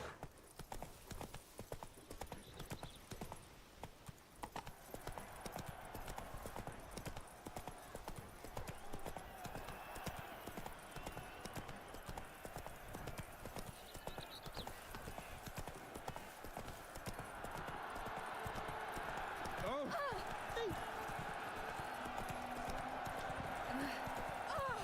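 Hooves of the horse Roach clip-clop at a gallop in a video game, a rapid steady beat running under talking, with a brief whinny near the end.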